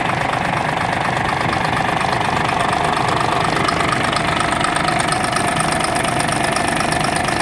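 A MAN D0826 LOH18 diesel truck engine of 260 hp idles close by, a loud, steady rumble with a rapid knocking pulse and no change in pace.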